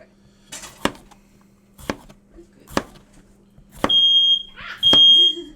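A smoke alarm sounds while food is cooking in a kitchen, giving two long piercing beeps near the end after several sharp clatters and knocks of utensils and cookware.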